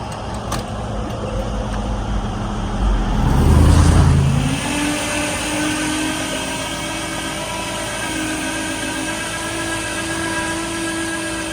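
Car engine running steadily during a ride home, a low continuous hum that swells briefly as the vehicle accelerates, then settles into a smooth cruising drone with no talk.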